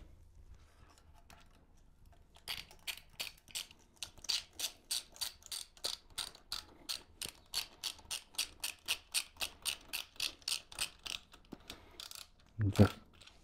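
Rapid ratcheting clicks from a socket wrench tightening bolts on a Black Widow exhaust fitted to a new Yamaha R7 motorcycle, a long even burst of close, fairly faint ticks ending in a heavier clunk.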